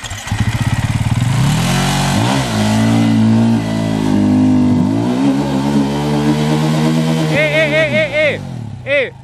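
An enduro motorcycle engine revs loudly at close range, climbing and falling through several sustained pulls, then finishes with a string of short, sharp throttle blips.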